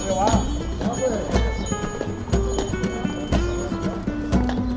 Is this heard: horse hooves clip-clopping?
yes